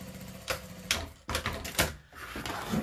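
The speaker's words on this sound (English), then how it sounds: "And I go sewing over it." A sewing machine stitches across a tote bag seam, giving a close, busy mechanical run broken by a few brief pauses and restarts.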